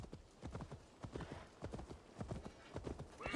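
A horse in the video game Assassin's Creed Valhalla clip-clops at a steady walking rhythm, hooves falling in an even, close sequence with no talk over them.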